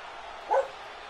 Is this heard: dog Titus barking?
yes